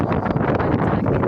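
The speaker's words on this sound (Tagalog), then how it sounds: "ang lakas ng hangin dito" Strong wind buffets the microphone at a high outdoor spot near a building, a continuous loud, rough roar with gusty fluctuations and no clear pauses.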